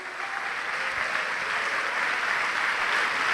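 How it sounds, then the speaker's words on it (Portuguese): A church congregation applauds during a sermon, a dense steady wash of many hands clapping together for a few seconds, with no speech over it. "Vamos aplaudir o Senhor por isso."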